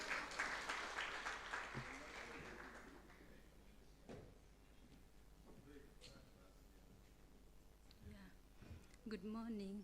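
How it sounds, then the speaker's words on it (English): Applause from a crowd at an insurance brokers' conference in Mbarara, Uganda fills the first few seconds, then fades into a roomy murmur of voices and scattered knocks. "Let's clap for the volunteer."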